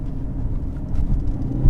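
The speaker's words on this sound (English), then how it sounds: "this goes over speed bumps and you barely feel them" An Aston Martin DB11 GT car rolls over speed bumps, heard as a steady, muffled low road rumble from inside the cabin with only slight swells and no sharp thumps.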